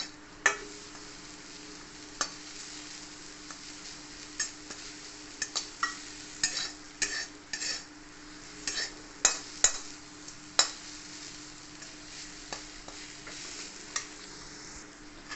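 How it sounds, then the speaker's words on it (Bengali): Grated coconut being stirred and dried out in a pan, with a soft steady sizzle under scattered scraping and clinking of a spoon against the pan, close and fairly quiet, no talking. "নেড়ে নেবো, একটু শুকনো শুকনো হবে।"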